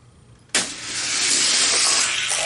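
Hot Wheels die-cast toy cars, a Plymouth Roadrunner against a Porsche 911, racing down a downhill track: a sharp release click after quiet, then a steady rushing roll of wheels on plastic that continues to the end.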